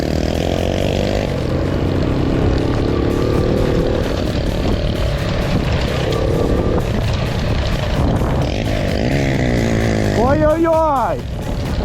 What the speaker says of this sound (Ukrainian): Вайпер це серйозний мопед.